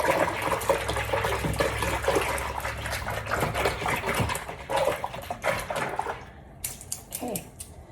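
Cold water being agitated by hand in a basin with a few drops of shampoo, giving irregular sloshing and splashing bursts close to the microphone.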